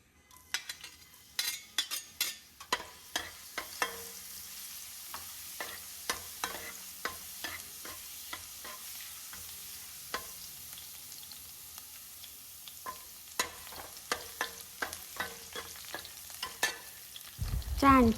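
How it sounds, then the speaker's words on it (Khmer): Crushed garlic sizzling in a hot pan as it is stirred, with frequent sharp scrapes and taps of a utensil against the pan over a soft steady fry, fairly quiet and close. "អញ្ចឹងបន្ទាប់ពីខ្ទះរៀងក្តៅហើយខ្ញុំដាក់ជាមួយនឹងមើមខ្ទឹមដែលខ្ញុំបានកច្រាមរួចចូល"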